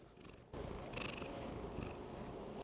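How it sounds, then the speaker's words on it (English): A cat purrs steadily and close by, a continuous low rumbling drone with no talk over it, in a quiet late-night art studio. "Can y'all hear him purring?"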